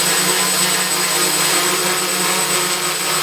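A hexacopter drone's motors run steadily at half throttle indoors, making a loud, constant whirring buzz with a high tonal whine and no change in pitch throughout.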